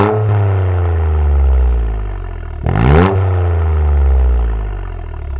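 A Toyota GR Yaris fitted with a titanium exhaust revs close by, its loud droning note swelling and easing in long waves with one sharp rising blip in the middle, no voices over it.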